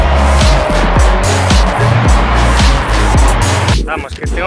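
Motorway traffic slowed at roadworks, with loud engines and tyre noise from cars passing and accelerating close by in a steady, repeating rhythm.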